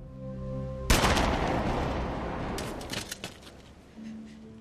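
A gunshot in an action film: one sharp, loud blast that cuts off music and trails into a rumbling echo and clatter, with a few smaller knocks before the music resumes.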